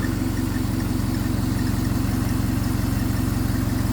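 A Vauxhall Corsa engine with an overheating fault idles close by with a steady rhythmic pulse, a faint repetitive squeak riding over the low drone, no talking.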